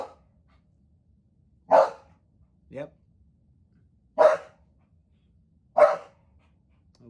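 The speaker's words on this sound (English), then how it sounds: "There's my dog." A pet dog barks four separate times, sharp loud woofs spaced a second or more apart against a quiet room, with a brief spoken word in between.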